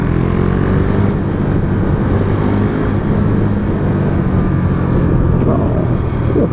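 KTM 390 Duke single-cylinder motorcycle downshifting through the gears, a loud steady engine drone with subtle pitch shifts under heavy wind noise, close and continuous without talk.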